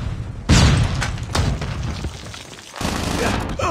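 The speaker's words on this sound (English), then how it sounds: "Watch out, flashbang!" Flashbang grenade detonating in the video game Call of Duty Mobile: a sudden loud booming burst followed by rumbling gunfire and further thumps, dense and close, with a short dip before the noise swells again.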